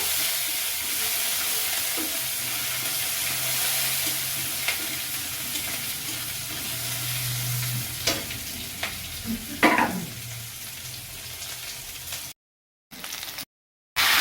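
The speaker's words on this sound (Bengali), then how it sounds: "পেঁয়াজটা ভালো করে নেড়ে একটু ভেজে নেব" Chopped onions fry in a pan with a steady close sizzle, broken by scraping and clinking strokes of a spatula stirring them, a louder burst of hissing near the end before brief gaps of silence.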